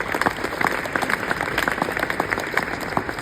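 A crowd at an Iftar gathering with the British Prime Minister gives a warm round of applause for parliamentary staff, a steady, full roomful of clapping with scattered louder claps nearby.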